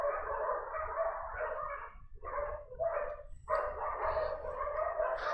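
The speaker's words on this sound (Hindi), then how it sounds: "हमारी तरफ कुत्ते बड़ा परेशान करते हैं" Several dogs bark outside in bursts, muffled and somewhat distant, overlapping yips and barks with brief pauses between volleys.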